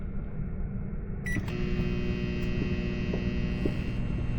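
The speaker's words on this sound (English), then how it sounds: "Let me plug in the microwave, and it just turned on." A microwave oven powered from an ALLPOWERS R1500 solar generator in a van starts up with a click and settles into a steady electrical hum with faint periodic throbbing, heating water.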